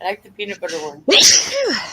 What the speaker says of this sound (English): Where'd that sneezing come from?